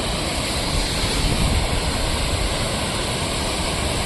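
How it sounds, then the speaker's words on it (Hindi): A waterfall on a mountain trek near Chika on the Hampta Pass route gives a steady, dense roar of rushing water, loud and unbroken, with no voices. "हम आए थे वाटरफॉल देखने"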